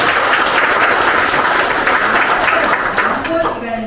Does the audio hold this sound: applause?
yes